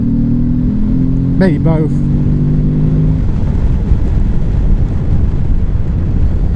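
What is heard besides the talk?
Morbidelli T1002VX motorcycle engine accelerating while overtaking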